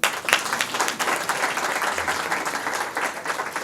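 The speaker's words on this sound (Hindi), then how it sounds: "अपने लिए तालियां लगा दो।" Seniors' club members at a Baisakhi festival celebration clap together in a lively burst of applause, dense and close, continuing steadily throughout.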